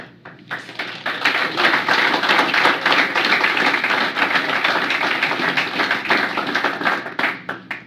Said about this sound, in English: I think they were clapping for you, Zach.